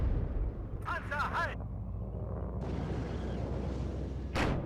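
Anti-tank guns firing on tanks in the WARNO strategy game produce dull, muffled booms and a low rumbling barrage, with a sharp burst near the end, under a player's talk.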